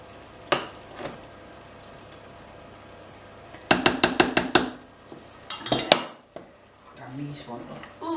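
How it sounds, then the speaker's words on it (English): Simmered cottage pie filling scraped and slid out of a pan into an oven-proof dish, with a burst of rapid metallic clatters and scrapes, a few sharper knocks, and faint talk near the end. "I'm going to actually turn them out into a dish"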